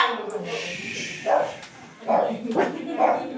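A dog barks in short bursts, a few close yaps spaced about a second apart, heard over ongoing room talk.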